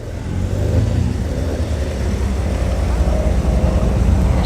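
A big classic Austin-Healey engine rumbles past at a classic car show, a loud, steady deep drone building slightly as it goes by, with people talking nearby.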